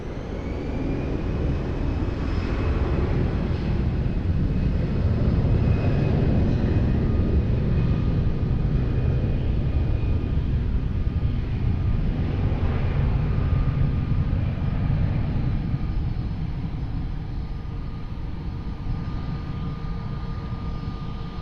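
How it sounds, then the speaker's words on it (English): Fixed-wing airliner on its takeoff roll from runway 20 at Lisbon Airport, a loud sustained jet roar with a thin high whine, steady and broad throughout with no talk over it. "Runway 20, cleared for takeoff, easy 89 Quebec Bravo."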